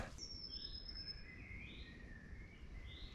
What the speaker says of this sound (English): The birds, they're still singing.